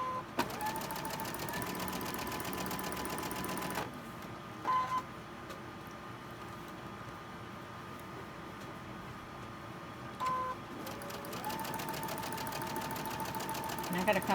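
A sewing machine stitching a quilt block strip runs in steady whirring bursts, pausing briefly midway and restarting, close to the listener.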